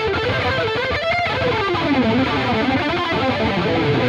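Distorted electric guitar played with sloppy string skipping, a continuous run of notes blurred by scratchy string noise between them, loud and sustained with no voice.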